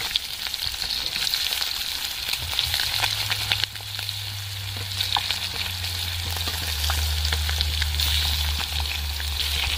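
Flipped eggs frying in hot oil give a steady, close crackling sizzle with scattered pops, a brief dip partway through and a low hum underneath, with no speech.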